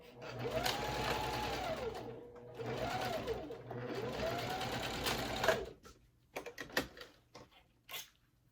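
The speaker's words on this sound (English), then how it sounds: "Now we sew." Domestic sewing machine stitching a wench wallet, running in three steady whirring bursts, then stopping for a few clicks and taps as the work is handled. A voice is faintly present.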